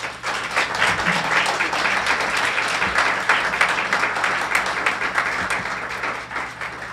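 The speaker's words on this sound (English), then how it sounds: "if you could just give us a round of applause for their amazing efforts" An audience at a university American Indian cultural house fall feast gives a steady round of applause. Dense, even clapping fills the room for about seven seconds without pause or talk.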